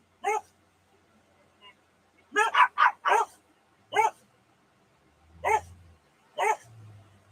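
Two dogs bark indoors in scattered single woofs and a quick burst of several, fairly close, separated by quiet gaps, with low background rumble.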